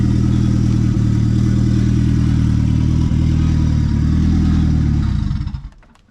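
A Ford Fiesta's turbocharged ST170 engine with no exhaust, only a downpipe, idles with a loud, raw, unmuffled rumble and steady lumpy tick-over, then dies away and falls silent at the end.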